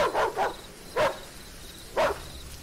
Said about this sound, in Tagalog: narinig nilang nag-iingay ang mga aso ng kapitbahay na parang may hinahabol